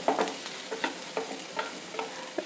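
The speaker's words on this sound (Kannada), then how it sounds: "ಈರುಳ್ಳಿ ಎಲ್ಲ ಚೆನ್ನಾಗಿ ಫ್ರೈ ಆಗ್ತಾ ಇದೆ" Onions frying in a pan with tomato puree while a spoon stirs them, a soft steady sizzle broken by regular scraping strokes, close and moderately quiet, no voices.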